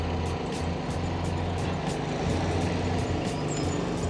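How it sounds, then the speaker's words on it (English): Traffic noise from buses idling and moving at Midland train station in Western Australia, a steady low engine rumble with faint hiss, no talk. "Saw the buses here."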